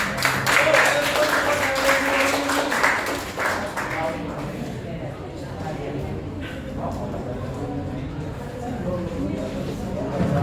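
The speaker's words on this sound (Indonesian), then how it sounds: "Tepuk tangan kelompok 3." A classroom group claps for group 3 during a lesson, a loud spatter of applause for a few seconds that fades into a murmur of students talking.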